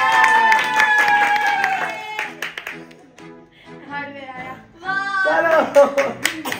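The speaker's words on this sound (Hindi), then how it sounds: "एल्विन एल्विन के लिए जोरदार तालियां" Children clap for a named child at an Eid gathering. Bursts of hand claps are mixed with loud, tonal voices and cheering, and the clapping drops out briefly midway before picking up again.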